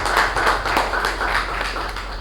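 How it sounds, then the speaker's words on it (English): A meeting audience applauds, a dense steady patter of many hands clapping at a constant level for a couple of seconds with no voices over it. "Please give a wonderful round of applause"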